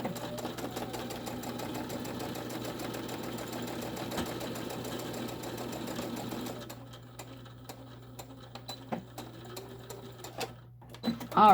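A sewing machine runs in a fast, steady mechanical whir while stitching a tote bag, stopping partway through, followed by scattered handling clicks and rustles.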